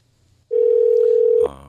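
A steady telephone dial tone sounds loud and alone for about a second while a radio studio connects a phone call, ending abruptly as the line picks up.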